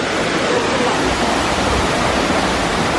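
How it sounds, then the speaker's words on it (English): Continuous rushing roar of a waterfall at Disney World, broad and steady, close and fairly loud with no pauses. "Waterfall."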